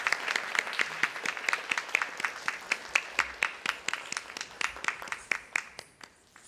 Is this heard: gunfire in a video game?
no